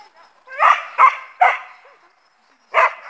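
A dog barks close by, three quick barks in a row, then a pause and one more bark.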